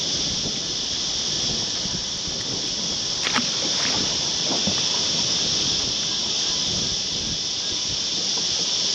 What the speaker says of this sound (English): The wind's absolutely pumping now.